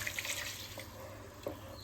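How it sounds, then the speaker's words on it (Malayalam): Coconut milk is poured into a simple tomato and onion curry, making a faint, brief liquid trickle and splash over quiet background noise, with no voices. "ഇനി നാളികേരപ്പാൽ ഒഴിക്കാം"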